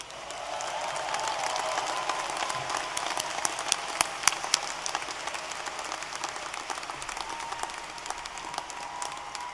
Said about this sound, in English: Let's give the class of 2022 another round of applause.